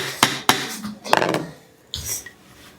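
A hammer strikes a leather Chelsea boot upper being crimped, giving two sharp close knocks, then a rattling cluster of taps and a duller thud after a pause.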